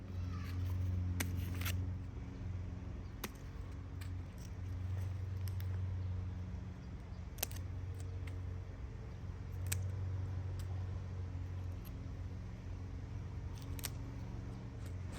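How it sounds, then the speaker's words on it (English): Scissors snip damaged leaves from a fig tree during repotting, giving a few sharp, sparse clicks over a steady low hum. "I'm just gonna cut off the damaged leaves here."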